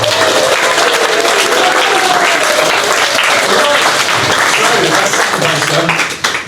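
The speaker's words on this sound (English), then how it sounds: "So can we have a round of applause for Daisy?" A crowd at an after-hours evening event claps loudly for Daisy, sustained applause with cheering voices mixed in that tapers off near the end.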